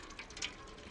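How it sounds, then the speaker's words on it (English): A cat laps at a container of water in the video game Stray on PS5, giving a few faint, brief wet drips and splashes over a soft indoor background. "Oh, and I'm drinking someone's water"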